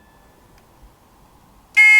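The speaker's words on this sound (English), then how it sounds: "we connect the little buzzer, so it's ignition on, buzzer on" The indicator buzzer in a Lotus 7-style Birkin kit car switches on near the end with a loud, sharp, steady electronic tone after near silence.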